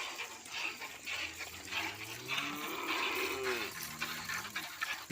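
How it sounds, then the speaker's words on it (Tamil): Cattle in a village during Mattu Pongal give a long, drawn-out moo with rising and falling pitch, fairly close, over a noisy outdoor background with bright hiss. "மாடு இருக்குது இங்கேயும்"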